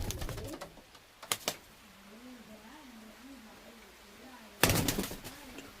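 A pigeon coos softly in a loft, one faint wavering call between sharp clattering knocks at the start and near the end.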